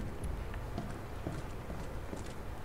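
Footsteps in Resident Evil 2 thud in a soft, regular plodding rhythm, faint and somewhat distant over a low background rumble, with no talk.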